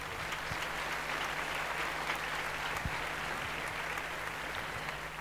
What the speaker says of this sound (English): A loud round of applause, please.